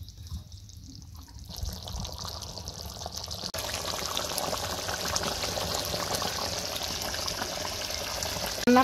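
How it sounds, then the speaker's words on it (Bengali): A little curry water poured into chicken curry in a village kitchen, a steady close liquid rush that swells after the first few seconds and runs on continuously, no talk. "খুবই সামান্য পরিমাণ ঝোলের পানি দিয়ে দেবো।"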